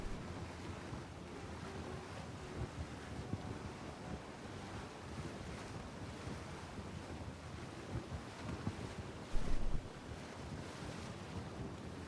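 Waves wash and rush continuously as a boat sails across open water in the game Triarchy, with wind blowing throughout and a brief louder surge near the end.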